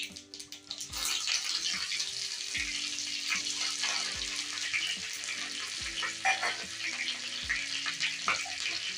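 Green chili and curry leaves sizzle steadily in hot tempering oil for Gujarati khandvi, a continuous bright crackle near the pan with occasional louder pops and light stirring, no voices.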